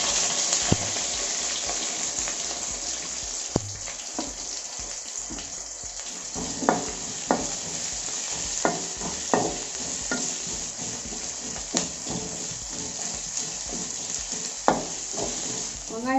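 Onions sizzle steadily in hot oil in a pan for fish curry, a constant close frying hiss with occasional clicks and scrapes of a stirring spoon throughout.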